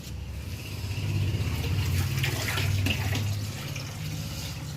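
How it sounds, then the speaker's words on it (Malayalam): Water is pumped into a new goldfish pond, a steady splashing, gushing flow with a low motor hum underneath, moderately near and continuous. "കുറേ കൂടെ വെള്ളം നമ്മൾ അടിക്കും"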